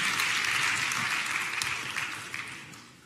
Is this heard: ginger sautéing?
no